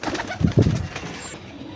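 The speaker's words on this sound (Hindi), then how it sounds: "यकीन माने हिस्ट्री मेकर कबूतर हैं ये मादी" Domestic breeder pigeons, a blue male alongside a female, give a couple of soft, close coos in quick succession, with faint background hiss afterward.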